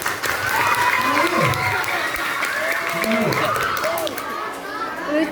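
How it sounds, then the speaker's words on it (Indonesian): Classroom of children clapping and chattering during a reproductive health lesson, steady applause blended with kids' voices and a teacher's speech throughout. "Tepuk tangan dong"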